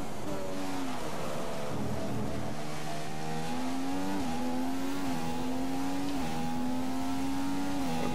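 A Formula 1 car in the F1 2015 racing game accelerates out of a corner at the Austrian circuit, its high engine whine climbing through gear changes in a steady, loud, continuous drone with no talking.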